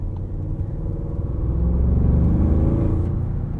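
The V8 engine of a 2022 Audi SQ7 hums in a deep, steady rumble that swells slightly midway, heard from inside the cabin with no talking.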